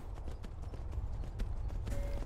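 Steady clip-clop of horse hooves in the video game Skyrim, a quick regular rhythm of footfalls heard up close, alone without speech.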